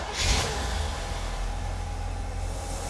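A 1965 Corvette engine, just fitted with a new fan clutch and steering rag joint, catches with a brief rev and then settles into a steady, close running drone.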